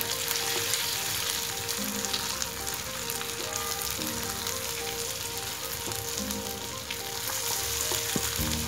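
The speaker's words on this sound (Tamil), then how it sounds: "பட்டர் நல்லா மெல்ட் ஆகட்டும்." Butter melting in a hot pan for a butterscotch sauce crackles and sizzles steadily up close, with occasional stirring scrapes and no talking.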